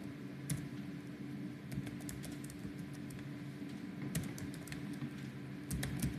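Typing on a computer keyboard: scattered clusters of light key clicks over a steady low room hum, close and fairly quiet, with no talk.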